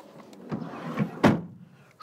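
A side door on a Ford Tourneo Connect 1.0 EcoBoost people carrier closes with one firm thump after a couple of lighter handling clicks, heard close up with no talk.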